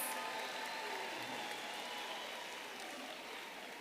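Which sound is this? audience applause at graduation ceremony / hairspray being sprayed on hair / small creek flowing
audience applause at graduation ceremony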